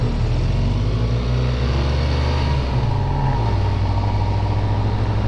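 Steady engine drone and road rumble from a BMW R1200RT touring motorcycle cruising on a road with soft suspension setting, loud and continuous with no pauses.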